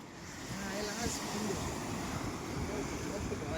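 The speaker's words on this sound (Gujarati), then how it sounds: "જોવો તમે બધા અવાજ સાંભળો દરિયાનો" Waves wash continuously against a shore, a steady rushing roar with some wind buffeting the microphone.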